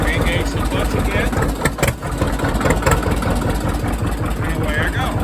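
Motorcycle engine with a hand-operated clutch running steadily close by as the clutch is let back in after shifting into third gear, a loud continuous rumble with a few sharper bursts.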